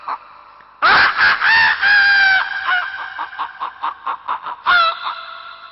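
A human voice imitates a flock of roosters and hens leaving a village household at dawn. A loud, close rooster crow comes first, then a rhythmic run of short clucks, then a final crow-like call. It is sung clearly with no background.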